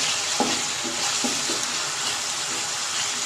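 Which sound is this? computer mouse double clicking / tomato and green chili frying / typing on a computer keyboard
tomato and green chili frying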